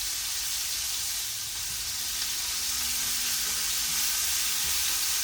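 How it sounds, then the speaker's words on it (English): Beef sweetbreads seasoned with Cajun salt and black pepper sizzle steadily in a hot pan, a constant close hiss of frying with faint bubbling and no talk. "while the sweetbreads are frying"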